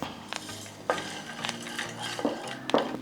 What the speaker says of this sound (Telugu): ఈ జీలకర్రని ధనియాలని మాడనీయకుండా ఇలా కలుపుకుంటూ ద్వారగా వేయించుకోవాలి